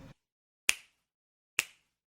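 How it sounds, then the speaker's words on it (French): Two sharp finger snaps about a second apart, crisp and close in an otherwise quiet room, each a single dry click with a short tail. "Je ne sais pas claquer des doigts."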